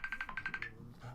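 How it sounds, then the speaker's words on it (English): A phone ringing with an incoming call, a quick series of about seven short, bright electronic tone pulses, fairly faint and brief. "I got a phone call here."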